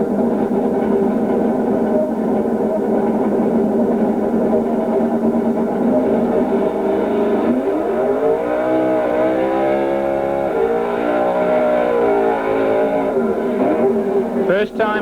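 An Opel Manta drag car with a big-block Chevy engine at a drag strip, a loud sustained engine roar that climbs in pitch as it revs and accelerates away, with commentary talk over it.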